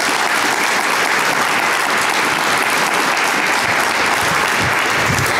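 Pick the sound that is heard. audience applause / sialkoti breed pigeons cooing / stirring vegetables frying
audience applause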